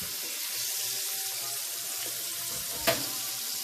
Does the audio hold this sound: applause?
no